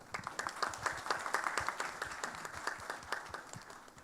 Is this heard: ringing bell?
no